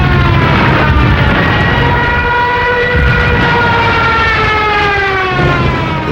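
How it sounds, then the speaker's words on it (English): A Junkers 87 Stuka dive bomber's siren screams loud and steady, a rising wailing tone over a heavy roar of engine and air, with no voices. "The German Junkers 87 dive bomber, nicknamed the Stuka and fitted with a screaming siren."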